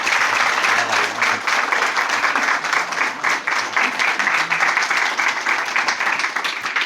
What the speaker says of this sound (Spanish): vamos a recibir a Aldo como se merece, con un aplauso, como es natural, ¿no?